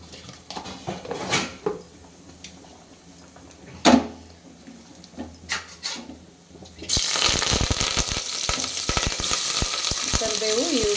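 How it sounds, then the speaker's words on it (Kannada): Mustard seeds, curry leaves and onion frying in hot oil in a pressure cooker, with intermittent clinks and stirring before a loud, steady sizzle takes over in the second half. "ಕರಿಬೇವು, ಈರುಳ್ಳಿನ ಆ್ಯಡ್ ಮಾಡ್ಕೊತಾ ಇದ್ದೀನಿ. ಇದು ಚೆನ್ನಾಗಿ ಫ್ರೈ ಆಗಲಿ"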